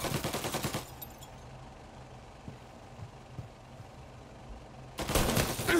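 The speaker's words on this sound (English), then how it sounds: "Somebody got a Tommy gun." Tommy gun fire in the game Mafia: Definitive Edition, a loud rapid burst at the start, a quieter stretch with faint distant shots, then another close burst at the end.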